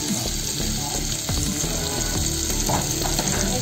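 Paneer biryani masala sizzling in a pan as turmeric goes in, a continuous close crackling fry with occasional stirring scrapes.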